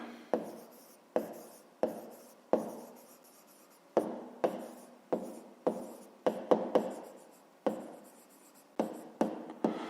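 Pen or chalk writing out a fifth-grade math solution, a series of quick, crisp scratching strokes and taps at irregular intervals, close and fairly quiet, with no voices.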